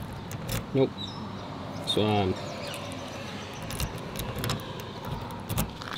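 Keys jangle in short bursts near a parked caravan as the right key is hunted for, two brief metallic rattles amid outdoor background noise, with people talking.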